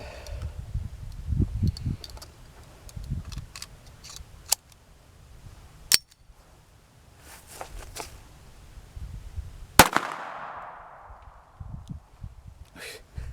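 A Browning Buck Mark Camper pistol fires a couple of sharp, loud reports spaced several seconds apart, one with a ringing decay. Soft handling clicks and rustling fill the quieter gaps.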